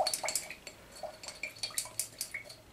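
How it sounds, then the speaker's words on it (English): Water and glue are stirred together in a small container to make paint, giving faint, irregular clinks and soft wet taps at a steady pace, close up and quiet. "And I'll mix the water with the glue to make the paint."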